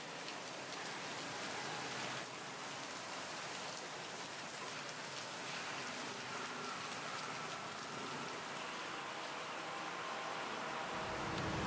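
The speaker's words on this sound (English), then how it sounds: "It's been raining on and off all morning." Steady rain pours down along Ramkhamhaeng Road in Bangkok on a wet, windy morning, a dense continuous hiss of drops hitting the street and surfaces, even and unbroken from start to finish with no voices.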